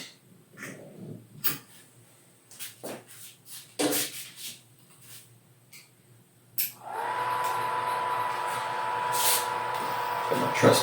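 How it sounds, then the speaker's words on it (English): A pump on a 12-gallon all-grain brewing rig moves liquid out of the mash tun, coming in as a steady, loud broadband hum that holds through the last four seconds after scattered handling knocks and rustles. "I actually just push this on the output of my mash tun and pump it in."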